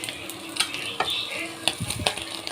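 Pieces of fried fish sizzle softly in a pan at close range while being turned, with sharp metallic scrapes and clicks of a utensil against the pan.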